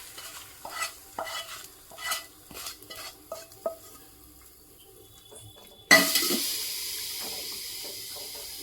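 A spoon scrapes and clinks rhythmically through mashed spinach kadayal, then hot tempering is poured in and a sudden loud hissing sizzle erupts and carries on steadily, close up with no talking.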